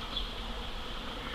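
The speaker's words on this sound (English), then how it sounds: "Bees' nest in the church." Bees buzz steadily around a nest in a sunny spot on a church, a soft continuous drone heard faintly at close range with no other sounds.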